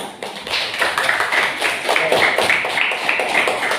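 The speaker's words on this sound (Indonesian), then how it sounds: "Tepuk tangan semuanya." A group of teachers at a training session claps together in a quick, even rhythm for a few seconds, loud and close, with no talking over it.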